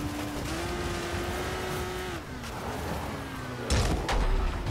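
A car engine drones steadily in the video game Dying Light: The Following, its pitch rising and dipping with throttle, then a louder roughening burst near the end, alongside game ambience with no talk over it.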